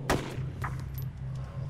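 Single gunshot fired at a zombie in DayZ, a sharp close crack at the start over a steady low hum, followed by faint scattered clicks.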